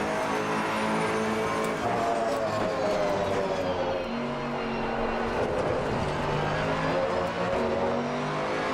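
Racing car engines, including a Mercedes-AMG GT2, roar continuously at high revs in the video game Assetto Corsa Competizione, with shifting pitch as the cars accelerate and pass, loud and sustained without talk.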